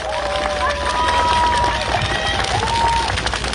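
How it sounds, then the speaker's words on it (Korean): A crowd applauds at an outdoor political campaign rally at Dongmun Rotary in Jeju City, a dense, steady wash of clapping and cheering held at an even loudness for a few seconds. "뜨거운 박수로 부탁드립니다"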